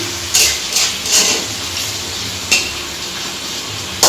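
Chicken and fish curry with potato and eggplant frying in a pan, steady sizzle broken by several sharp scraping stirs of a spatula against the metal.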